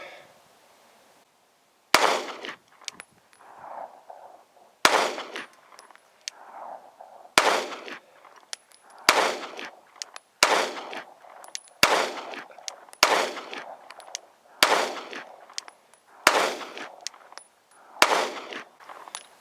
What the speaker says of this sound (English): Let's see what we can do with a Glock 43X.